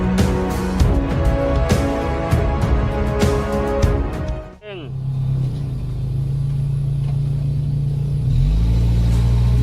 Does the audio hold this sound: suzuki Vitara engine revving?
yes